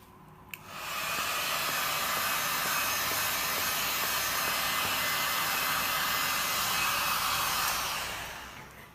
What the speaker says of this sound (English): Now I'm gonna use my heat gun to pop all these cells. I'm using cheap heat gun from Lidl.